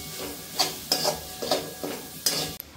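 Vegetable masala and tomato purée frying in oil in a pan for pav bhaji, with a soft sizzle beneath about five rhythmic scraping stirs of a spoon, close and fairly loud.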